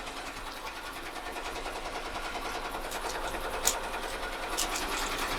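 An embroidery machine stitches a T-shirt with a fast, steady mechanical chatter, faint and continuous, with a couple of brief clicks near the end and no talking.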